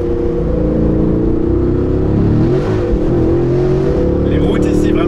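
A 2019 Aston Martin Vantage AMR with manual gearbox drives near the Nürburgring, its engine droning loudly and steadily with a brief shift in pitch midway, recorded close from inside the car.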